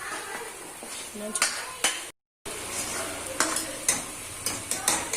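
Tomatoes cooking in a pan for dhaba-style palak paneer, with a steady low sizzle broken by repeated scraping stirs and clinks of a spoon against the pan, plus a brief gap of silence partway through.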